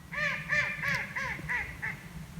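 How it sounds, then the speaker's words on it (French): A duck quacks six times in a steady series of loud, nasal calls over a low background rumble. "vous avez sans doute entendu un canard qui s'est mis à crier tout d'un coup"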